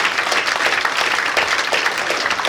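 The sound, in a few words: audience applause at awards ceremony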